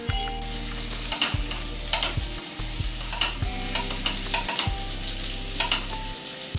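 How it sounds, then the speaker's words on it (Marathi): Onion frying in ghee for biryani, a loud close sizzle broken by repeated rhythmic stirring scrapes of a spoon in the pan, with no talk. "आणि आता कांदा छान सॉफ्ट होईपर्यंत त्याला फ्राय करून घेऊया."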